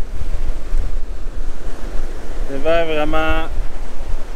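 Strong wind roars steadily over the microphone with ocean surf rumbling underneath at sunrise in the Magdalen Islands; a brief voice breaks through near the end.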